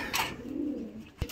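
Pigeons in a loft give a soft, low throaty coo lasting under a second, close by, followed by a brief sharp knock.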